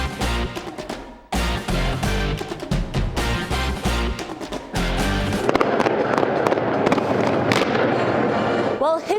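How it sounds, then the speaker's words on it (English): Fireworks burst for UNLV's first home football game at Allegiant Stadium, dense rapid crackling and booming volleys that are loud and continuous, with crowd noise and a voice over the later part. "Bring out the fireworks for the Rebels' first home game at Allegiant Stadium."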